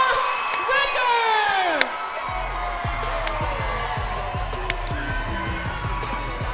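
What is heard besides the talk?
crowd cheering at a women's MMA fight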